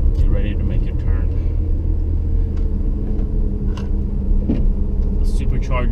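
Supercharged Acura RDX engine accelerating on a canyon road, a steady loud low rumble of the motor and road noise that holds throughout, with brief bursts of voices over it.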